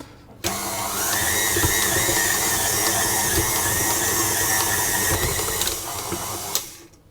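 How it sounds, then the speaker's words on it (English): A stand mixer kneads cruffin dough, a steady loud motor whine with a faint rhythmic knock running continuously for about six seconds before stopping. "I'm going to do it in this mixer"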